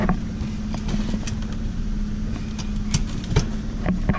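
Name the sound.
Ford Mustang engine idling with exhaust leak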